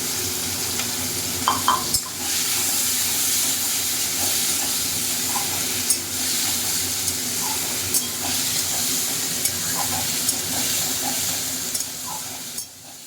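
Shrimp are tossed and stirred in a hot pan, producing a steady, hissing sizzle with soft intermittent scrapes and light clinks of the spatula and a louder knock near the start.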